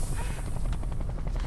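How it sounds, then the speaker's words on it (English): A hostile helicopter in the video game Metal Gear Solid V: The Phantom Pain, its rotor thudding in a fast, steady rhythm, loud and close, with no talk over it. "Okay, note to self, helicopter not friendly."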